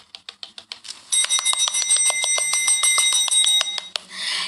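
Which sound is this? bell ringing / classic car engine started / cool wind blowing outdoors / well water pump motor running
bell ringing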